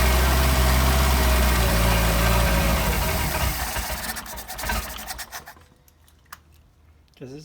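A Solex moped engine idling loud and close with a rough, raspy drone that fades and dies away, leaving a few faint clicks and handling noises in near quiet.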